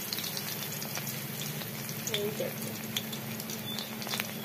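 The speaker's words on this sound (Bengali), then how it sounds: "বেশ লালচে করে এটাকে ভেজে নিচ্ছি" Water lily flowers dipped in gram flour batter fry in hot oil, giving a soft, steady sizzle and bubbling throughout.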